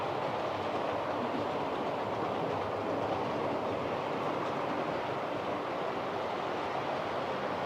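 Model railway train running along layout track, a steady continuous rolling rumble with faint clickety-clack, close and even throughout with no talking.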